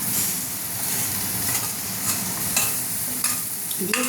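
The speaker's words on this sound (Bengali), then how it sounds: "চিংড়ি মাছগুলোকে একটু নেড়ে নিচ্ছে।" Fried prawns being stirred into a spice masala in a pan, a steady close sizzle with scraping strokes of the spoon across the pan every second or so, no talking.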